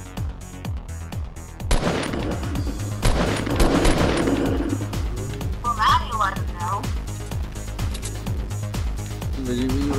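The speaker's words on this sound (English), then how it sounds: "I got a suppressed gun, so I can shoot him" A suppressed gun in the video game Fortnite fires in quick, steady bursts of muffled shots, repeating throughout while players talk over it.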